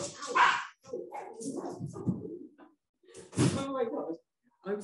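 Several dogs being fostered at home bark and yip in short, sharp bursts close to the microphone, with a whimpering tone between barks, while someone talks over and between them.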